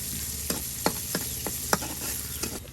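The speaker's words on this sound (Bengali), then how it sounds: "পেঁয়াজ রসুন ভাজা ভাজা করে নিল।" Onion and garlic fry in hot oil, a soft steady sizzle broken by about seven distinct scraping stirs of a spoon in the pan, close and fairly quiet with no talking.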